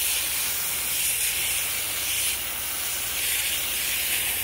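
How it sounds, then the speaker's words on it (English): A garden hose angled at green loofah gourds, blasting off the slimy green pulp at high pressure: a steady, loud, broadband hiss of spraying water that holds without a break, with no talking. "I have the hose on angle and I'm just spraying with high pressure that green slimy pulp out of it"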